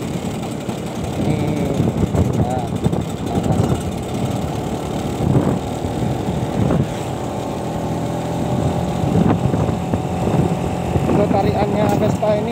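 A Vespa Exclusive Silver scooter engine hums steadily during a leisurely ride after morning drizzle, a continuous close drone with a rider talking over it.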